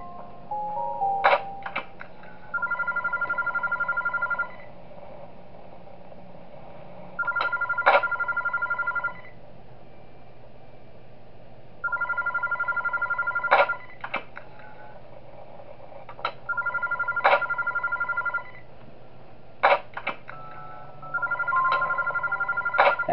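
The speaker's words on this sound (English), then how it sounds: "Call the phone on Bowser." Telephone ringing in the video game Those Nights At Wario's 3, a repeating electronic ring in evenly spaced bursts of about two seconds, with sharp clicks between rings and a steady low hum underneath.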